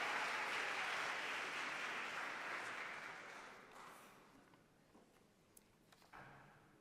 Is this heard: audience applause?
yes